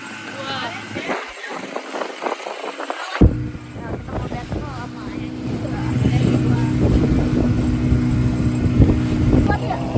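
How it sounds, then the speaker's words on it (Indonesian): A boat engine passing at sea off Pulau Merak Kecil during snorkeling, a steady motor drone rising louder through the second half over wind and water noise, with people talking throughout. "Ada kapal."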